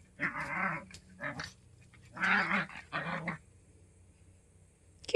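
Wiener dogs (dachshunds) growl and whine in bursts close by, several rough, voiced outbursts separated by brief pauses, with no speech.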